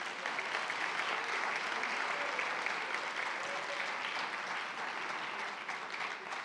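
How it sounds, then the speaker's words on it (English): Sustained applause from a large audience at a college convocation, dense and even clapping that fills the hall at a steady loudness from start to finish. "Let's give him a round of applause, please"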